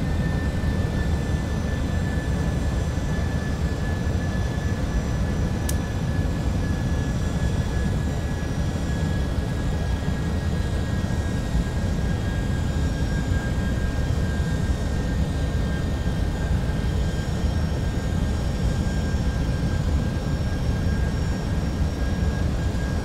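A continuous, loud airplane engine roar, heard from inside the cabin on landing approach with gear and flaps down, steady throughout with a faint high tone.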